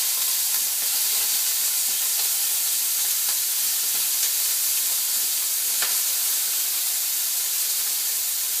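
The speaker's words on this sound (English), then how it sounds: "So I'm just going to fry that off." Chunks of chuck steak fry in hot oil in a pan, a loud, steady, broadband sizzle that carries on without pause, with faint scattered crackles and no talking.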